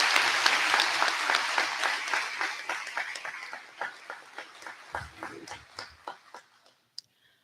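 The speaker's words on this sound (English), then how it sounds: "Please join me in a round of applause to recognize their hard work and dedication." An audience applauds at a high school commencement ceremony: dense, loud clapping from a crowd that gradually thins into scattered individual claps and fades to near silence after about seven seconds.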